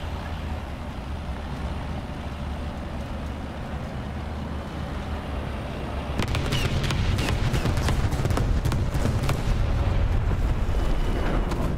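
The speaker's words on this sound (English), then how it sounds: "Oh, I hit him with the artillery." Artillery fire in a video game, heard as a continuous rumbling roar that swells louder halfway through with crackling bursts and impacts layered on top, dense and loud, no talk.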